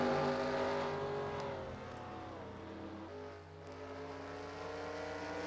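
Stock race cars in the NASCAR Racing 2003 video game at the Long Island Grand Prix, a sustained, droning engine roar with layered harmonic tones that dips and shifts pitch as the cars decelerate and accelerate, heard alone.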